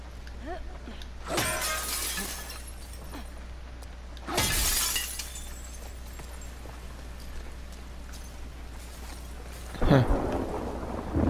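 Glass shatters three times in the video game The Last of Us Part II, inside an abandoned Dave & Buster's: loud, sharp crashes spaced several seconds apart, with quiet ambient rumble between them.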